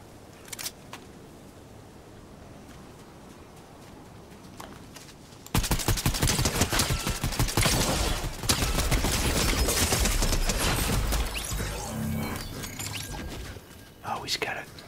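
Fortnite video game gunfire erupts as loud, dense bursts of rapid shots after about five quiet seconds of faint whispering and clicks, then continues steadily to the end.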